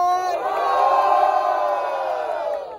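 A crowd at a Brazilian street battle rap semifinal roars and cheers for a rapper's rhymes, a loud sustained collective shout that swells and slowly fades.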